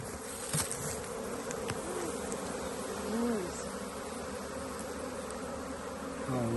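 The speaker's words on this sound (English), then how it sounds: "Oh wow, I am literally surrounded by bees right now." A dense swarm of honeybees hums steadily around a beekeeper at the hives on a farm in Portugal, a close, continuous buzz with individual bees passing near and fading.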